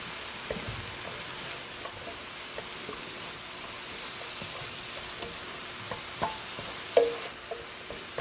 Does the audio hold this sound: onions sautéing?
yes